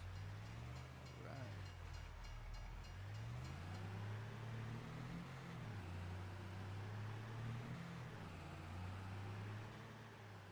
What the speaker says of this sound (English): Wait for this train to cross.